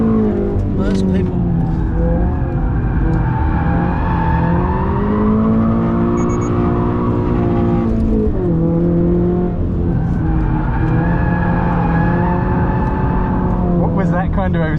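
A Subaru BRZ sliding on a skid pan, its engine droning loudly with sustained tire squeal as the car oversteers, while people talk over it throughout.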